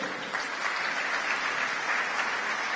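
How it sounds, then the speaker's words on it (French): A church congregation applauds young couples: steady, sustained clapping from a crowd, fairly even in loudness throughout. "Acclamons les jeunes couples."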